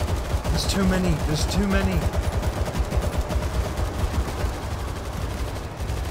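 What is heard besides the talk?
automated turret firing at zombies in the video game World War Z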